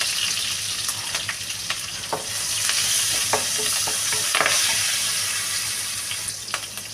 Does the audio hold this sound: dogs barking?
no